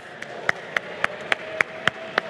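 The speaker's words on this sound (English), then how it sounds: "give them a huge cheer" Applause at Nintendo UK's VS Live London event as Team 4D comes on stage: about eight sharp, evenly spaced claps, close and distinct, with no cheering voices.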